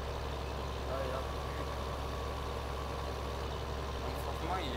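A tractor engine in Farming Simulator 2015 runs at a steady idle-like drone, with a constant low rumble filling the whole stretch and faint voices in the background.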